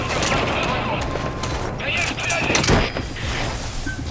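Rapid bursts of gunfire from the stealth action video game Metal Gear Solid V during a prisoner extraction, dense and continuous over a busy battlefield mix with a voice speaking.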